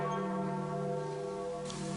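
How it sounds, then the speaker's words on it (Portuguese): Bells of the Basilica in Rome tolling to announce a pope's death, a sustained resonant ring with layered overtones heard alone, steady and moderately loud. "os sinos da Basílica anunciaram para Roma a morte do pontífice."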